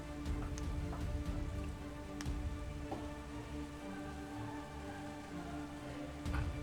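Soft, steady rainfall patters on surfaces with occasional sharper drips, a quiet continuous ambience with no voices.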